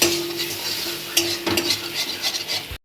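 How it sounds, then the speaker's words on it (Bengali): A spoon stirs Maggi noodle ingredients with fried potato in a hot pan, scraping and clinking against the metal over a constant sizzle, with a couple of sharper knocks. "এরকমভাবে আলু ভাজির সঙ্গে ভালোভাবে মিক্স করে নিচ্ছি"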